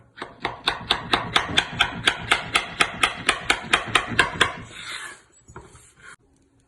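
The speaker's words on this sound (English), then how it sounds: "I'm definitely dinging up this aluminium." Metal hammer striking aluminium sheet for a modern necklace, about fourteen sharp, evenly spaced ringing blows at close range, then a brief scrape and quieter handling sounds at the end.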